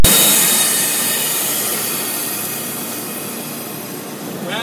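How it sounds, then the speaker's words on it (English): Compressed air exhausting from machine clutches in a factory, a loud, steady broadband hiss that begins abruptly and fades slowly over about four seconds, with no voices. "This is a little noisy when I exhaust the air from the clutches."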